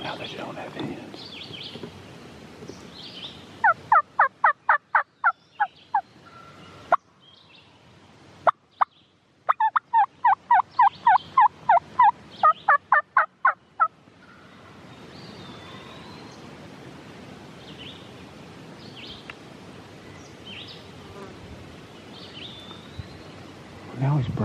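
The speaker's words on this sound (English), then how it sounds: "The turkey just gobbled a few times" Distant wild turkey gobbling in two rapid bursts, separated by a few sharp clucks, outdoors in Pennsylvania woods in late May, with faint bird calls around.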